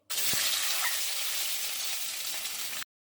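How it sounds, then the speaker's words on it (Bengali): An egg drops into hot oil and bursts into a loud, continuous crackling sizzle that holds steady for nearly three seconds before stopping abruptly. "এবার দেখুন আমি ডিমটা ছেড়ে দিলাম"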